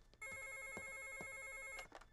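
A telephone rings in a scene from a Bollywood horror thriller, the bell sounding in bursts with a brief pause near the end, loud and close with no talking.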